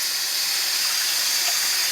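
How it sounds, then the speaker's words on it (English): Tap water runs steadily into a bucket set in a sink, being filled with about three gallons of hot water for homemade laundry detergent; a continuous, close, even hiss of pouring water. "And I'm just filling this up."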